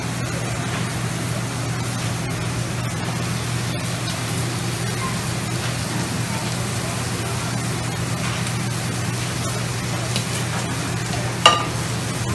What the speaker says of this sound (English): They'll saute in those onions, adding a little salt